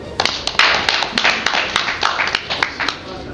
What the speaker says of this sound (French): nous puissions ensemble l'applaudir